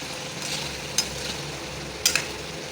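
Chicken frying with ginger garlic paste for restaurant-style pepper chicken, a quiet steady sizzle with a few sharp clicks of a stirring utensil against the pan.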